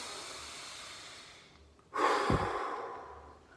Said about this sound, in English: Good deep breath.